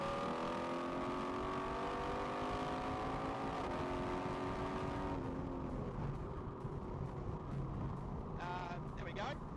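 A car overtaking in a driving video game, its engine droning and climbing in pitch through a long pull before easing off, with a faint sweeping tone near the end and a steady road hum underneath.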